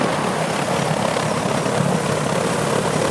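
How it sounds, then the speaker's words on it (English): Army MEDEVAC helicopter idling on the ground with rotor blades turning during litter-carrying training, a loud steady broadband rotor and engine roar with continuous whooshing texture and no voices. "carrying the litter to and from the helicopter while the blades were rotating"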